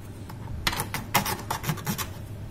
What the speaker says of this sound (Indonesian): Potongnya pakai gergaji ya, pelan-pelan.